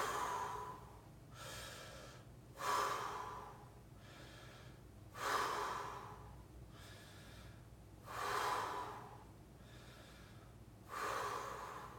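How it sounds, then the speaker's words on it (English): Slow breathing in and out through the mouth, with about five unhurried, airy breath cycles close to the listener. The sound is soft and even, with brief quiet gaps between breaths. "This is going to be all breathing the mouth, in and out the mouth."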